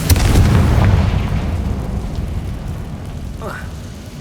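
Explosive spell blasts from Bombarda and Confringo in the video game Hogwarts Legacy, a loud booming burst up front that rolls into a long rumbling decay, with a brief swooshing magical flourish near the end.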